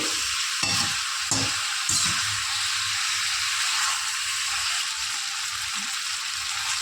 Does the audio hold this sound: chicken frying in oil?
yes